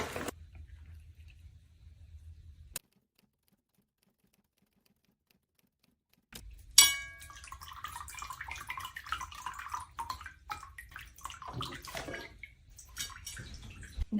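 After a brief silent pause, water is poured close up onto a potted houseplant, splashing and trickling for several seconds.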